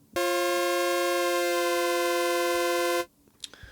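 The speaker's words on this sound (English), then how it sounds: "And you could even detune it slightly." A bright, buzzy synthesizer tone holds for about three seconds with a slight wavering from detuned oscillators, then stops abruptly, followed by faint clicks.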